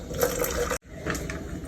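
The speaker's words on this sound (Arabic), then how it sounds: "هحط شوية مية سخنة." Hot water poured into a cup over a spoonful of coffee, a close, steady gushing pour that breaks off briefly and resumes, with no talking.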